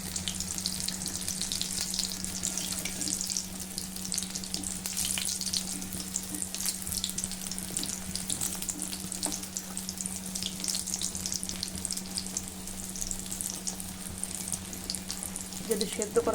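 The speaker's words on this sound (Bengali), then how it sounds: "খুব ভালোভাবে চারিদিকটা ঘুরিয়ে একটু ভেজে নেব।" Cornflour-coated chicken pieces fry in hot oil with a steady, dense sizzle that holds even and close throughout, with a faint low hum underneath and no voices.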